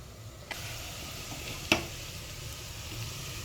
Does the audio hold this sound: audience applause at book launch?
no